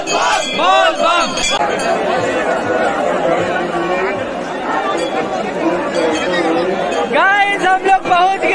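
A dense crowd of Bol Bam pilgrims on a Monday at Baba Dham temple in Deoghar, loud close chatter and overlapping shouts and calls, with occasional metallic clinks, continuous throughout.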